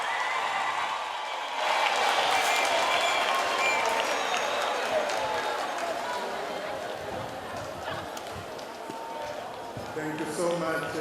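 Moderate applause from a seated audience runs for several seconds after a speech, steady clapping with a voice speaking over part of it.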